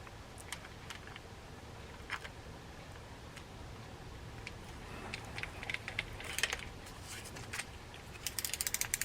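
Vintage Heddon 220 R spinning fishing reel being serviced and spun by hand, faint rapid ticking and ratcheting gear clicks, close and quiet, growing busier with a burst of quick clicks at the end.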